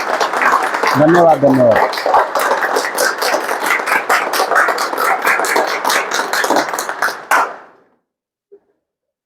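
An audience claps together at a talk on magnetic energy, a sustained burst of many hands that stops abruptly near the end, with a speaker's voice over it.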